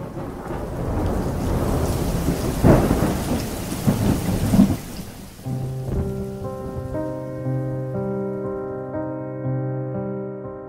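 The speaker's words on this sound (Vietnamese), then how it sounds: "Một cơn mưa do hoàn lưu bão lại trút nước xuống đường phố." Heavy storm rain pours steadily with rumbling thunder for several seconds, then fades as soft musical tones take over.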